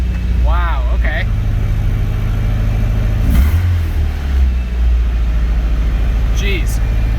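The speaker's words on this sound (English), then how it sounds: "it should start and run, and it should run and rev a whole lot better than it did before" Nissan S13 engine after a timing fix, idling with a low steady rumble and then revving up sharply once in the middle before settling back, with a few short human exclamations over the engine.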